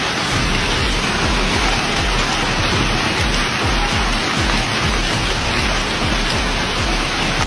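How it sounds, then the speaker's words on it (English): A hailstorm in Nebraska, heard as a dense, loud, unbroken pelting and clatter of ice on surfaces that continues throughout without any voices. "hailstorm."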